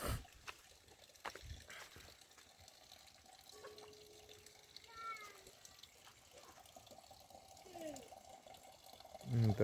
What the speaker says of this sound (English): That's the water tap.